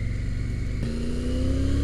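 Engine of a Triumph Tiger 900 Rally Pro, a big, heavy touring motorcycle, holding a steady drone, then rising in pitch as it accelerates, loud and close throughout.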